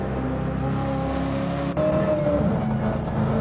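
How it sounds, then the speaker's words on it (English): A loud old-school race car engine, the Richard Petty number 43 pace car at Watkins Glen, drones steadily with sustained tonal whine, shifting pitch slightly midway as it keeps running; no talking. "You can hear that old school engine just howling in this thing."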